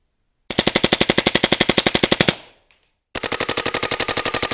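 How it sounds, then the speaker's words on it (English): Two rapid full-auto bursts from a Valken M17 paintball marker, each a fast, even string of loud, sharp pops close to the mic, separated by a brief pause with a small rattle. "full auto burst at nothing in particular"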